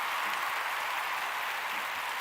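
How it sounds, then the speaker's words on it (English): Applause for a guest at a talk-show round table, a steady wash of clapping heard at a distance, faint and even, with no voices over it. "My special clap for the brother."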